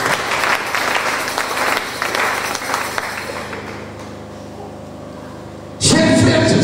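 A church congregation applauds at a Wednesday prayer service, steady broad clapping that fades somewhat, then swells sharply louder near the end.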